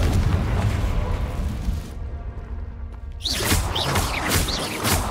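A Confringo blasting spell from Hogwarts Legacy goes off as a loud booming explosion, followed by a brief lull and then a crackling, whooshing burst of fiery debris.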